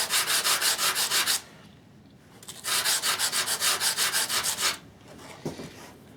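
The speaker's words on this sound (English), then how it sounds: "let me just file these down" Hand filing of grinder parts with 80 grit abrasive: two bursts of brisk back-and-forth rasping strokes, close and steady, separated by a short quiet pause, with a faint knock near the end.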